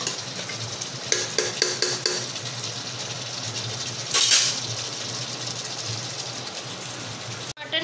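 Mutton being sautéed for Bengali mutton kasha, a low continuous frying sizzle with bursts of spatula scraping and stirring against the pan, close, with one louder clatter near the end and no speech.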